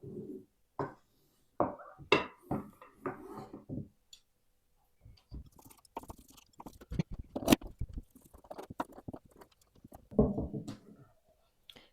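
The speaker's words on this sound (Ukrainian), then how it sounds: "І залишилось нарізати охолоджене м'ясо." Knife cuts chilled meat into cubes on a board in a series of irregular taps and soft chops, close up, with quieter pauses between bursts.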